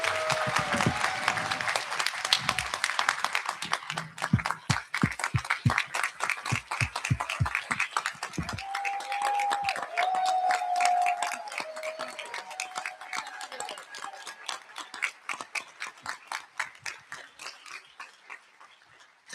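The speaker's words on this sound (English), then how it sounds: "One more round of applause for everyone." Audience applause at a board of education meeting honoring staff receiving tenure, a dense burst of clapping that thins into scattered, sharper individual claps toward the end, with no talking over it.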